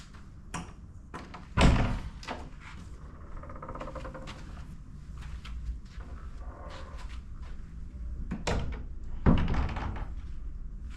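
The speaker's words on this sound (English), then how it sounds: "The entrance door." An office entrance door is handled with a few sharp thunks and clicks, spaced apart over quiet room tone and a faint hum, with two louder impacts standing out.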